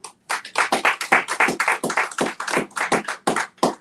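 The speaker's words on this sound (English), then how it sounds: "have a big round of applause for Dr. Vanessa White-Jackson" A small audience claps for Dr. Vanessa White-Jackson at a discussion event on Afro-German history, the claps landing as distinct, fairly even strokes that stop briefly and resume, fairly close and alone.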